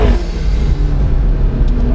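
A McLaren 650S in sport mode pulls hard out of a corner, its engine a loud, close, continuous low roar that holds steady for the whole two seconds with no voices.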